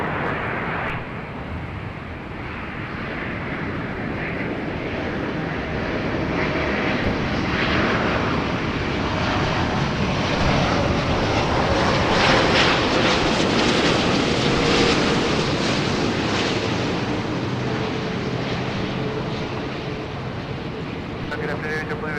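An airliner on the north runway at LAX airport, its jet roar swelling to a peak midway and then easing off, with radio voices heard underneath.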